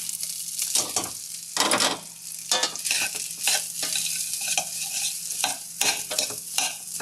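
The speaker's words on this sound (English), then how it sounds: "And you just stir it really quick so nothing burns." Rice stirred and fried in butter in a hot pan, with a steady sizzle broken by repeated scraping strokes of a spoon roughly every second, close and clear, with no talking.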